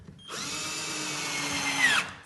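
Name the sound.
power drill driving screws into wooden balance board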